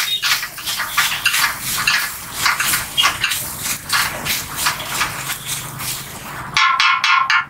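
Scrambled mixture being broken up and crunched in a pan, a steady run of rapid metal scrapes and clinks from a spatula, growing sharper and brighter near the end, with no talk.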